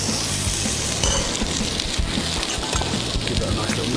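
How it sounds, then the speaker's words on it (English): Onions sweating in hot ghee in a pan give a steady close sizzle and crackle, with a low background hum and some stirring throughout. "In with a touch of ghee, okay? Get that nice and hot. Start sweating off those onions"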